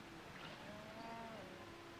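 Cattle on a ranch give a faint, drawn-out moo, a single low bellow heard at a distance within steady outdoor background noise.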